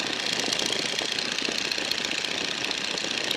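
A Stearman biplane's engine drones steadily in flight at reduced power, a loud continuous rumble with a fine rapid pulse and no pauses.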